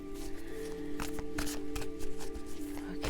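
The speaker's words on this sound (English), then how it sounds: "So I'll shuffle these cards." A deck of tarot cards is shuffled by hand: several quick riffling bursts and soft slaps, close and fairly faint, with no talking over them.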